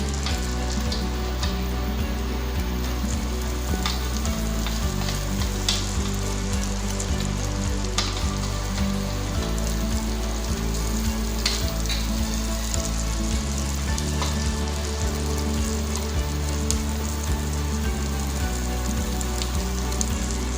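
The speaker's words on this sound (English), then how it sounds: "we saute till the garlic and the onion a little" Coarsely chopped garlic and onion sautéing in a hot pan, a steady, close sizzle and crackle that continues throughout without speech.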